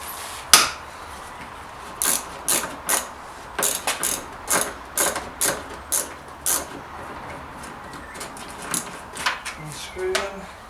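A ratchet wrench clicks as it backs out tight car headlight bolts, with a sharp knock and then bursts of close, crisp ratcheting in quick repeated strokes and short pauses, with no voices.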